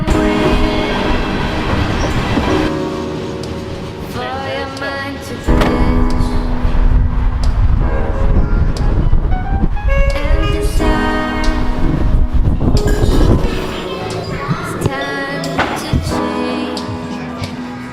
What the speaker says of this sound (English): And now there's a train coming